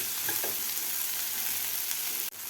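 Okra, or bhendi, stirred and frying with masala in a pan, a steady close sizzle with light scraping from stirring, cutting off abruptly near the end.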